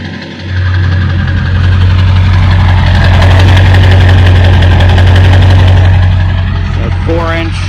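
A Ford 7.3L Powerstroke diesel truck with a 4-inch turbo-back exhaust idles loud and close, a steady deep knocking rumble that starts abruptly and runs on, with a brief chirp near the end.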